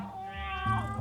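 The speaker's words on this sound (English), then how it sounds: "I don't know how they got the recordings of the meows." A single drawn-out lynx cub meow from Shelter 2 rises then falls over a low steady game hum, close and clear.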